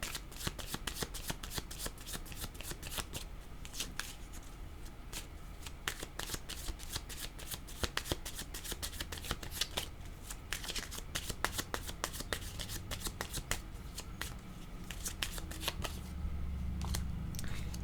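Tarot cards shuffled by hand at close range, a long run of rapid riffling flicks and soft card slaps in an uneven rhythm, fairly quiet, with no speech.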